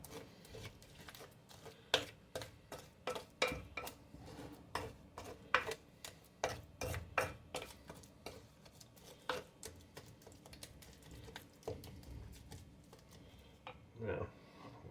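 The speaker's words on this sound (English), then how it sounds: "Use your spoon to cream that down in there." A spoon works a biscuit mixture of bleached flour and baking powder in a bowl, giving a steady run of sharp scraping clicks and taps against the bowl at close range, with occasional soft voice in the background.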